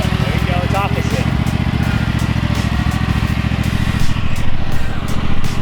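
A riding lawn mower engine runs steadily and close while the mower is driven, with people talking over the even mechanical drone.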